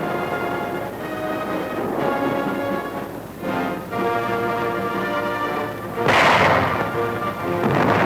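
A 4.2-inch chemical mortar opening fire during a 1942 beach landing, heavy booming reports over a steady low rumble of engines, with one loud blast near the end.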